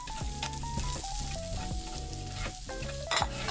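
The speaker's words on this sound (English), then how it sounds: "It's already frying." Onion and meat frying in a pan for yaki udon, giving a steady, close sizzle that runs the whole time, with tonal music-like sounds layered over it.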